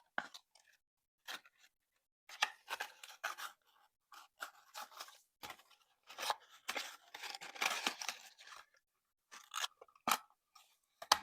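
Paper shape net being creased and folded by hand into a box, a series of soft crinkling and crisp creasing sounds in short irregular bursts with pauses, close and fairly quiet, no talking.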